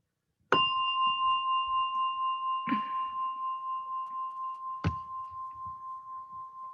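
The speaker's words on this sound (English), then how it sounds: "as you hear the gong" A meditation gong struck three times at a slow, uneven pace, each stroke ringing out clearly and leaving a long, steady, shimmering sustain that overlaps into the next, with no talking.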